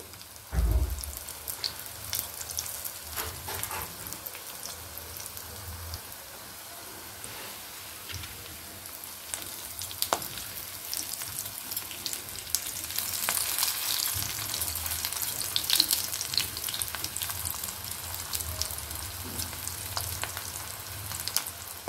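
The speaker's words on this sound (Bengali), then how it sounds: "এখন এটাকে আরেকবার একটু ভালো করে ভেজে নেব।" Dhoka lentil cakes, already lightly fried, fry again in hot oil with a steady crackling sizzle, close by, broken by occasional louder pops and turning clatter.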